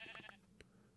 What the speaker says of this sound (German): Ein Schaf.